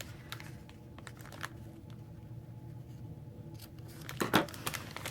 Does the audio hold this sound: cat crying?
no